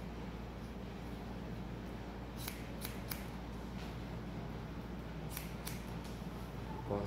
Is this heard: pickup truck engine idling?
no